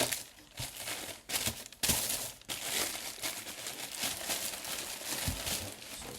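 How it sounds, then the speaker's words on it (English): Paper wrapping is crinkled and pulled out of an Air Jordan Retro 12 sneaker box, bursts of close, loud rustling and crumpling with brief pauses between handfuls. "Wrapped in a lot of paper here,"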